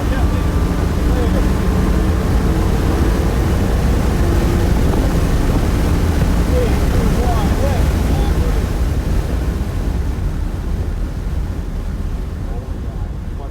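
A V10 Lamborghini driven fast around an F1 track, with a constant loud roar of engine and rushing wind that stays steady and close throughout, fading only slightly near the end.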